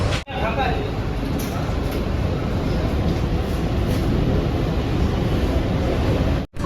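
A metro train pulls out of Dakshineswar station in Kolkata, a steady loud rumble and rushing roar heard from inside the carriage, broken by a brief dip near the end.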